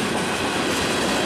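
A Wheeling and Lake Erie freight train rolls past on the rails, a loud, steady rumble of wagons and wheel noise close by, with no voices.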